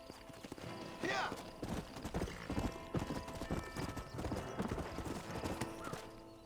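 Horse hooves clip-clopping with a whinny in Red Dead Redemption's old-west setting, close hoofbeats in uneven bursts with a neigh about a second in, under a spoken voice.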